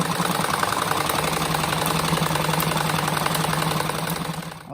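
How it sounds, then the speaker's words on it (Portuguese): A sewing machine stitches fabric scraps into a patchwork rug, with a steady rapid mechanical whir and fast needle clatter running throughout at close range, then stopping abruptly at the end. "agora eu passei uma costura aqui e nas pontas aqui"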